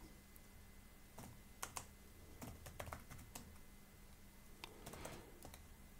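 Typing on a Toshiba L650 laptop keyboard that may not be seated properly, with irregular bursts of close, crisp key clicks separated by short pauses over a faint background hum.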